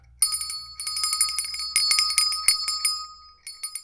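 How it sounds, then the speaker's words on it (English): A small physical bell rung by hand at a model-building workshop desk, a rapid series of bright metallic dings with ringing overtones, close and loud, stopping briefly near the end before a couple of final taps. "Thank you for using your channel points on a physical bell that I have."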